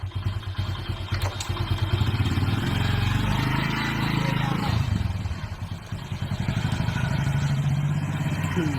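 An old motorcycle engine idles and revs nearby, with rapid chugging pulses that rise, ease off briefly and pick up again, with faint voices in the background.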